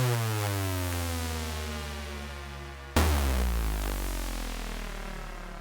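A sustained, buzzy saw-wave synthesizer drone from a Sequential Prophet, with rich harmonics, cutting off abruptly near the middle and restarting on a lower, heavier tone that slowly fades.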